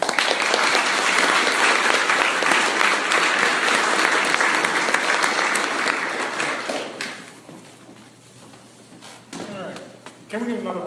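Audience applause after a talk on Shockoe Valley history and archaeology, dense clapping for about seven seconds before tapering off, leaving brief voices, then a burst of renewed clapping.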